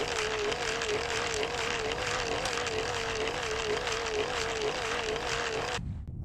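Supercapacitor-powered model airplane throttling up in flight, its propeller giving a loud, steady whine with a slightly wavering pitch that holds for about six seconds and then cuts off abruptly.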